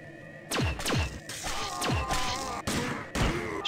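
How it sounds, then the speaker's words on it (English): Gunshots ring out in the video game System Shock 2: about six loud, close blasts, each with a falling tail, spaced unevenly across a few seconds. "Shot that dude in the face."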